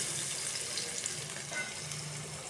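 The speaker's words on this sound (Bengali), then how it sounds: "দেখুন, পেঁয়াজটা ভাজা হচ্ছে" Onion and garlic frying together in oil in a home vegetable dish, a steady close sizzle with faint stirring scrapes running throughout, no voices.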